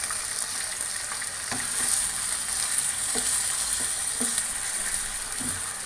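Chicken frying in a karahi with ginger garlic paste just added, a loud continuous sizzle with a few soft scraping stirs at intervals and no talk.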